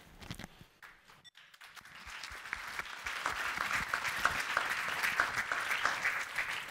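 Audience applause after a talk by a CFO, starting with scattered claps and building into steady, fairly soft clapping from a moderate-sized crowd.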